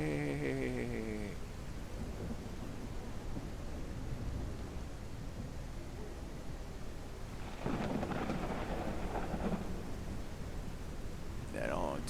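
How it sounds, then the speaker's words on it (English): Rain and rolling thunder from a stormy scene in the ranch-building video game Ranch Simulator, a steady wash of rain with a low rumble and a louder burst late on, while someone talks over much of it. "It rains a lot."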